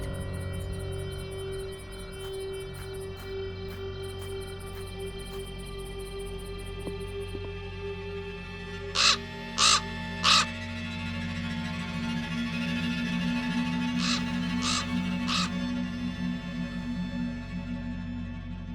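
Three loud, harsh crow caws in quick succession over a steady low ambient drone inside a room in the adventure game Black Mirror 2, followed later by a few fainter caws.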